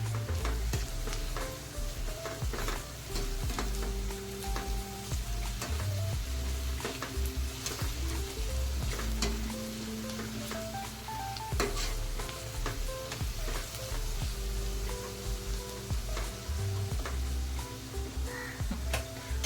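Chopped onions with added salt frying and being stirred in a pan for a yogurt chicken gravy, a soft continuous sizzle with light scraping stirs, while music plays throughout.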